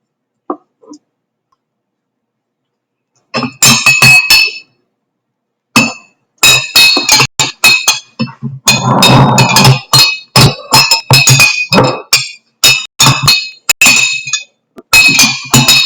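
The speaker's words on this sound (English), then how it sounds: "stir that one up" A spoon stirs liquid in a glass during a flower science experiment, sending out rapid bright clinks and rattles in bursts that are close and fairly loud, with short pauses between them.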